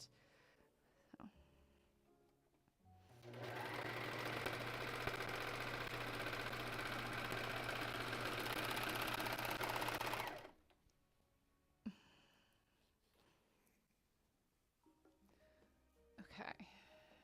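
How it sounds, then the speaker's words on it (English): A serger overlocks the raw edges of cut fabric in a steady, loud mechanical whir that runs for about seven seconds, with quiet handling noises and small clicks before and after. "I'm currently serging all the edges of the fabric"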